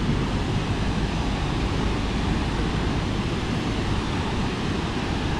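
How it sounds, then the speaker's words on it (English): Massive Krka waterfall in Croatia, a dense, steady roar of falling water heard close by, loud and unbroken throughout with no voices. "This is a massive waterfall."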